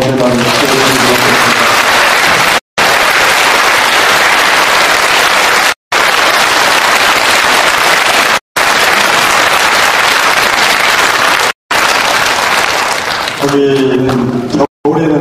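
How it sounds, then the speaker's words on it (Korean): Loud, dense applause of thanks from a temple audience at a Buddhist monk's dharma talk, broken by several abrupt cuts to silence, with a speaking voice at the start and again near the end. "박수로 감사를 드리겠습니다."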